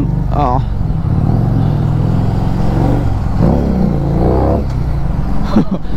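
A Harley-Davidson Street 750 motorcycle engine on the move gives a steady, close, low rumble, while someone talks loudly over it throughout.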